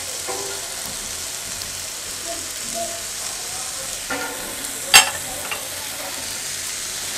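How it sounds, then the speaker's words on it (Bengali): Rice, masoor and mung lentils and beef fry in a pan for bhuna khichuri, giving a steady hiss with scattered scraping stir strokes and one sharp clink near the middle, no talk. "এখন সব কিছু আমি খুব ভালোভাবে ভেজে নিব।"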